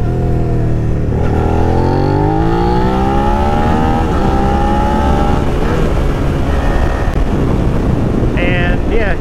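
A loud 2022 Suzuki SV650 ABS motorcycle with an aftermarket Yoshimura exhaust revving and shifting through gears with a deep, throaty exhaust note, heavy wind rushing over the microphone throughout.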